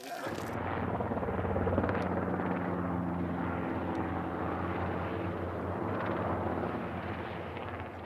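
A spotter helicopter mustering a herd of camels in the Australian outback gives a loud, continuous rotor and engine roar that holds steady throughout.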